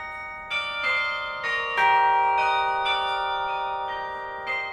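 Carillon tower bells ring out a slow melody, several struck bells layered with long ringing overtones, the strikes spaced irregularly and sounding clear and resonant with no voices.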